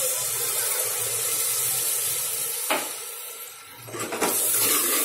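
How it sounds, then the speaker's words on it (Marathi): Loud continuous sizzling hiss as water is poured into hot cooking tomato masala, dipping briefly before resuming strongly. "मसाला शिजायला थोडं पाणी टाकून घेऊया"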